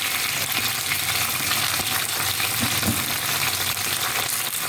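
Hot oil sizzles and spatters in a pan while taro is roasted, a steady, close, fairly loud frying hiss with scattered pops running throughout, and no voices.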